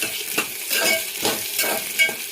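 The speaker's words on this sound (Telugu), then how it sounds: "పచ్చిమిర్చి, ఉల్లిగడ్డ కలుపుకోవాలి." A spoon stirs sliced onions and green chillies in a hot pan, scraping several times over a constant close sizzle, with no voices.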